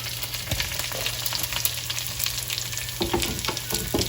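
Onion, ginger, garlic and curry leaves fry in a pan for Kerala-style chammanthi podi, making a constant close sizzle dotted with small pops and stirring scrapes.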